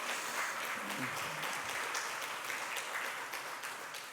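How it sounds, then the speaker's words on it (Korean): Steady applause from a congregation during a Sunday church service in a reverberant room, sustained throughout with a faint voice briefly underneath. "우리 좀 박수로 좀 격려하시면 감사하겠습니다"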